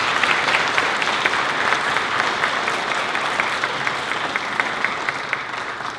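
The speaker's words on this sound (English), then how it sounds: "Can we have another round of applause, please?" Sustained applause from an audience at a Red Cross heroes recognition event in Delaware, Ohio, steady dense clapping of many hands at even loudness throughout, with no speech over it.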